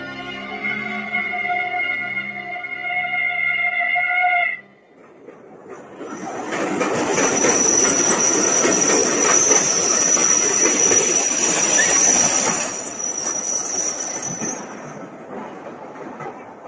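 A train rolls into a station platform as a drama sound effect: a horn-like tonal blast first, then the loud, sustained rumble of wagons with squealing wheels and hissing brakes that gradually eases.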